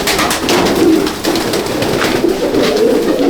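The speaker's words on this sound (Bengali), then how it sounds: "এটা একটা মেল পায়রা দেখাচ্ছি" Steady, close cooing from a male Madras pigeon, a white-headed type kept in a breeding loft, repeating in soft throaty pulses for several seconds with no voices over it.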